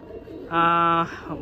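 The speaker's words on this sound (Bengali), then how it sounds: "সেরা পায়রা এটা" One Madrasi pigeon in a home loft lets out a single loud, sustained tonal coo lasting about half a second, close up, amid quieter background murmur.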